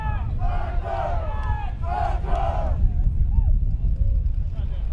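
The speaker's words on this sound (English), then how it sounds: "you can really hear the crowd, screaming X Factor" Crowd at a PSP Galveston 2011 paintball match between X-Factor and Viciouss, chanting and screaming in loud rhythmic bursts over a steady roar of outdoor noise, with a voice talking.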